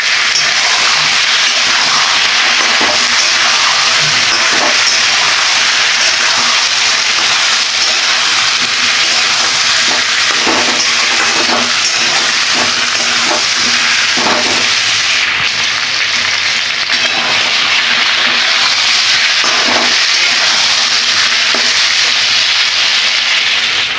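Potatoes and pointed gourd, salted and sprinkled with turmeric, fry in a covered pan with a loud, constant sizzling hiss. Faint clinks and knocks occur now and then.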